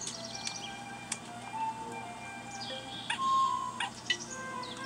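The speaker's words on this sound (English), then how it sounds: "the sparrow mint is obviously a bird" Chirps from the sparrowmint, a bird creature in a Rare Replay video game, sound as a few short bright calls over a steady game background tone.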